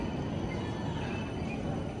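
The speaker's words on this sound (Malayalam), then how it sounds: "നമ്മൾ ഈ ഷോപ്പിംഗ് സ്ട്രീറ്റിൻ്റെ ഇടയിൽ കൂടെ ട്രാം പോകുന്നു." A tram in a German shopping street rolls past with a dense, steady rumble and rail noise, loud and close throughout a short stretch, with no talking.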